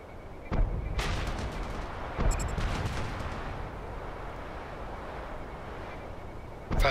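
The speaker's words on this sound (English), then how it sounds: "Firing on the target bridge" Heavy gunfire in Red Faction Guerrilla aimed at a bridge: a few loud booming shots with long rumbling decay, then a sustained roar of fire and debris, with no talk.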